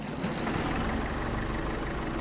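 A tractor engine in Farming Simulator 22 runs in a dense, steady idle, with a rough low rumble and faint knocking, heard up close and alone without any speech.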